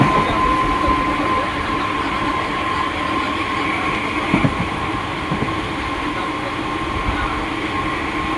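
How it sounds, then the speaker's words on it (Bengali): A train approaches a station in West Bengal with a steady, loud rolling rumble and faint rail clatter throughout, with no talking. "ট্রেন আসবে এক্ষুনি, আসার টাইম হয়ে গেছে"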